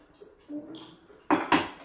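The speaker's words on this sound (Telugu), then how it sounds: "ఏందో స్పూన్ తీసుకొని వేస్తూ ఉన్నానండి" A spoon scoops tea powder from a container in a home kitchen: two quick, close scraping clinks arrive about a quarter second apart after a quiet stretch with faint background voice.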